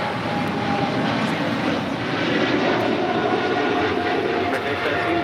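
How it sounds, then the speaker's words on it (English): A heavy airliner, American flight bound for London Heathrow, takes off at LAX, its engines a loud steady broadband roar that holds throughout, with faint radio chatter in the background. "This is American 136 Papa Heavy taking off to London Heathrow."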